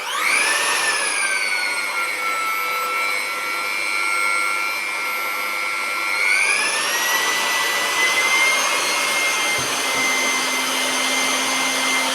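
A Bosch GOF 130 router spins up and runs at a steady high-pitched whine, shifting to a higher speed partway through, loud and close with no talking.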